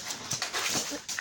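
An excited puppy whimpers and whines close by in a quick series of high, breathy yelps and squeaks over about a second, with no talk.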